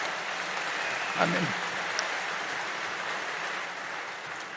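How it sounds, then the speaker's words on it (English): Shareholder meeting audience breaking into applause, a brief burst of clapping rising from steady hall murmur and fading under a speaking voice. "it's nice to know what lines you can get applause for"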